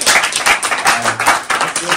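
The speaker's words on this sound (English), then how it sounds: "give a round of applause for Emily" Group clapping and cheering for a contestant on a Survivor-style fan game show, a burst of hand claps with some voices mixed in, fairly loud and close.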